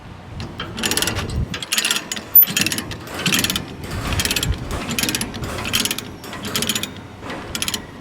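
A load securement ratchet strap on a truck is tightened and loosened, giving bursts of sharp, rapid ratcheting clicks in repeated strokes with short pauses between, close up.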